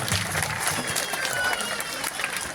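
An audience applauds a performer after an imitation of a seal, a soft, steady wash of clapping heard at some distance with voices mixed in.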